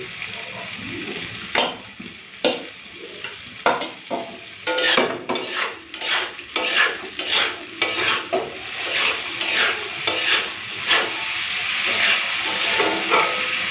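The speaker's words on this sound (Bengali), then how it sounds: "এখন এই ভেজে রাখা আলুগুলোকে দিয়ে আর দু চার মিনিট কষে নিলে হয়ে যাবে" Fried potatoes are sautéed into a fish curry in an iron wok, with a loud hissing sizzle and rhythmic scraping strokes of the spatula repeating steadily, close up.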